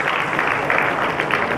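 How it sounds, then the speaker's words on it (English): Audience applause at a national entrepreneurs' summit, a dense, even burst of clapping that fills the hall for a moment. "Give yourself a huge round of applause"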